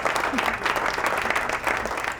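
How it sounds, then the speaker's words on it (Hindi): Dense, steady applause from the audience at an Islamic question-and-answer quiz competition, loud and continuous through the whole short stretch with no pauses. "तालियां तालियां बजाइए भाई"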